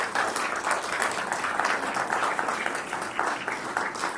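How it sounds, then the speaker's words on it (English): A Rotary-hosted audience at a council candidate forum claps steadily for the candidates, a continuous, moderately loud round of applause from a sizable room lasting the full few seconds. "ladies and gentlemen, a round of applause for your candidates."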